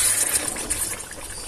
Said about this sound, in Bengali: তো গরম জলটা এবারে এর মধ্যে ঢেলে দিলাম